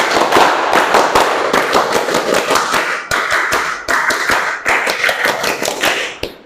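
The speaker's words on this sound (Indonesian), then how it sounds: "Tepuk pramuka." A standing class performs the Pramuka scout clap in unison, loud, crisp claps in a quick, patterned rhythm that runs without pause almost to the end.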